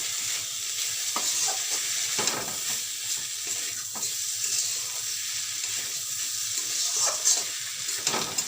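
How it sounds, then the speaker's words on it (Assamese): Roasted almond paste sizzles and fries in a hot pan for an Assamese-style paneer gravy, a steady close crackle with occasional stirring scrapes and no voices. "অকণমান ভাজি লওঁ।"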